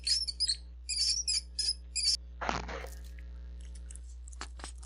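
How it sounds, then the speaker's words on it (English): Crunching and chewing as a cat eats a mouse in a horror video game: bursts of high chirping insect-like noise, then one wet crunching bite, followed by faint scattered crackles over a low hum. "Not the eating sounds."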